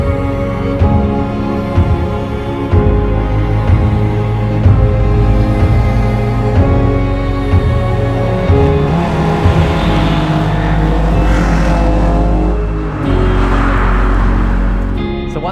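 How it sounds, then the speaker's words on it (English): A Toyota AE86 engine with quad throttle bodies roars loud and close under load, its rich intake growl rising in pitch with a raspy breathing edge as the revs climb, with no talking. "You can just hear the quad throttle bodies just sucking in all the air"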